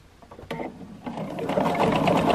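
A sewing machine stitches a quilt, starting with a few faint clicks and then running up into a steady, rapid, close mechanical whir.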